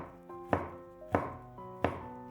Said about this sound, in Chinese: 2个洗净的香菇先切成薄片儿